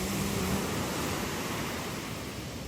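Strong ocean waves surging onto a private beach in warm swimming weather, a steady loud broadband wash of surf with no pauses and some wind noise over the microphone.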